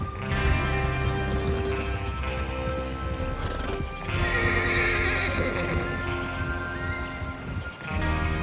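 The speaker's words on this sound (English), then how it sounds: "Get your horses ready." Horses in the video game Red Dead Redemption 2 whinny loudly over steady clip-clopping hooves, with a busy outdoor ambience and a faint rustle in the background.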